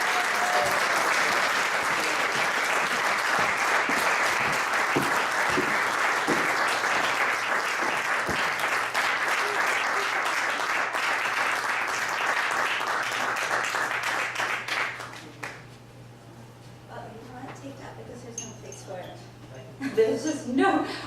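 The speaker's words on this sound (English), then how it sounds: "A big round of applause for Adeena Karasick." An audience applauds poet Adeena Karasick at a jubilee celebration, with long sustained clapping that fades out, then quieter room sounds and scattered noises.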